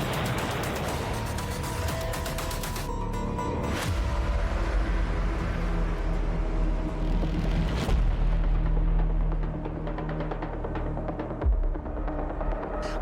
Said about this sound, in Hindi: यूक्रेन की फौज तोप दागने में लग जाती है